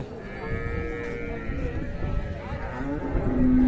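Friesian cows and calves at a crowded cattle market in Raniganj, with a low, drawn-out moo rising near the end over the steady murmur and bustle of the livestock market.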